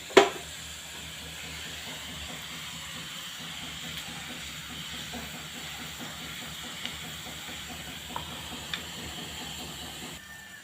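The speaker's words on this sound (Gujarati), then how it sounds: "મસ્ત મજાનો વગર થઈ ગયો છે તલ પણ ફૂટી ગયા છે" Sesame seeds and tempering spices for dhokla sizzling in hot oil, a soft steady hiss with faint crackling and a few small pops, quiet and close, with no talking.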